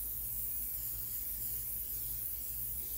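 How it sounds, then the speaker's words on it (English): Butter spray misted over the top of a turkey meatloaf makes a steady, close hiss that holds without a break for about three seconds, with no voice over it. "I'm going to take my butter spray. I'm just going to spray the top of it"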